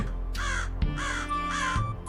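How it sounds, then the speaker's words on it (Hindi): A crow caws three times in a steady rhythm, harsh and nasal, fairly close, over a low background hum. "कालू कौवा"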